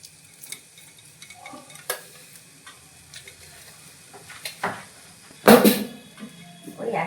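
Jaggery being stirred in a pan for coconut laddu: quiet, sparse spoon scrapes and light taps, then a louder clattering scrape near the end, with no talking.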